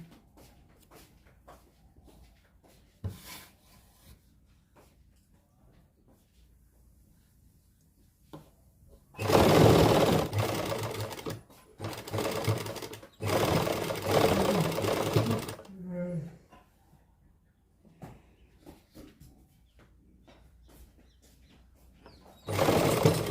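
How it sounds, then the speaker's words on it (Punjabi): Sewing machine stitching lace onto the hem of a suit: two loud, close bursts of rapid mechanical chatter, each lasting a few seconds, separated by a short pause amid quieter handling sounds. "ਆਪਾਂ ਸਲਾਈ ਜਿਹੜੀ ਲਾਉਣੀ ਹੈ ਇਸ ਤਰੀਕੇ ਨਾਲ ਸਿੱਧੀ ਲੈ ਕੇ ਆਵਾਂਗੇ"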